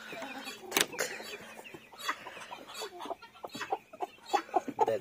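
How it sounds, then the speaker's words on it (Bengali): Pet chickens, two roosters, two hens and three chicks, cluck and call in scattered bursts near at hand, with a sharp louder squawk early on and irregular clucks throughout. "আর মুরগা 2টা আর মুরগি 2টা বড়।"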